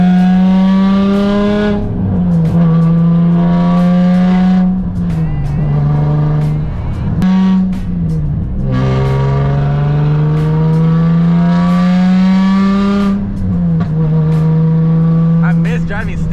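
Straight-piped Nissan 350Z with aftermarket headers and a manual gearbox, its engine and exhaust droning loudly while driving, revving up and dropping back between gear shifts in repeated rising pulls.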